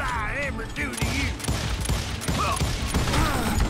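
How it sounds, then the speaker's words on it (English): Enemy gunfire in the Western shooter Call of Juarez Gunslinger, several sharp shots with metallic clanks and ricochet-like whines scattered across the clip, loud and close over game ambience. "Just wait for him to stop shooting"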